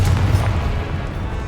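Repeated Confringo fire-spell blasts in the video game Hogwarts Legacy, a dense continuous rumble of booming explosions with heavy low-end thud, loud and steady throughout.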